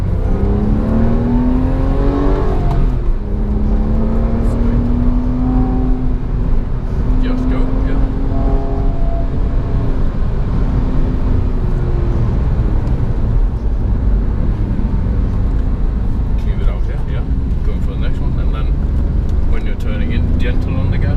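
A Porsche 911 (997) Carrera with a six-speed manual pulls through full-throttle acceleration, its exhaust note climbing in pitch and then droning steadily under a constant engine roar, while people talk over it inside the car.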